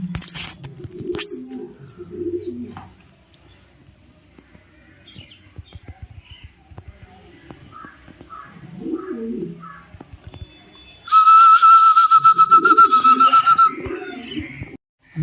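Racing pigeons at a loft give soft, intermittent coos and low calls amid scattered handling noise, followed by a loud, sustained high warbling whistle for a few seconds before quieter cooing returns.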